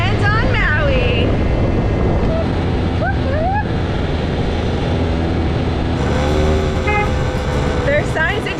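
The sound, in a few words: moped horn honking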